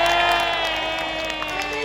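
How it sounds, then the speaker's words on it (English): A crowd at a jousting show at Hampton Court Palace cheers for a knight, a loud sustained mix of shouts and children's voices holding steady throughout. "have a cheer for the knight in red!"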